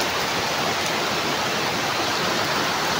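Heavy rain pours down in a loud, unbroken rush of hissing noise, steady throughout with no other sounds standing out.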